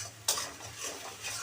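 Spice paste fries in a pan for a dry cauliflower dish as a utensil scrapes through it once sharply, followed by a soft, continuous sizzle.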